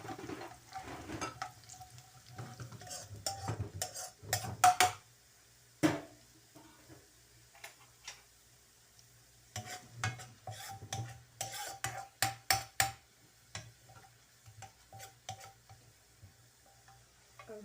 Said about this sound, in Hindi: ये अब ज़ीरा डाल दिया और रेड साबुत मिर्च। अब हल्का सा इसको मैं भूनूंगी।